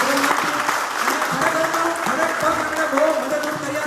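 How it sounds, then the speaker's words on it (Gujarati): Steady applause from a crowd at an award ceremony, dense and continuous clapping throughout with some voices mixed in. "એમને તાળીઓના ગણગણાટથી મેં વધાવ્યા"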